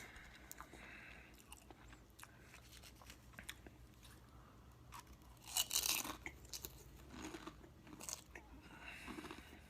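Crunchy snack chips are bitten and chewed close to the microphone in a string of irregular crisp crunches, faint at first and then a louder burst of chewing midway, with no one talking.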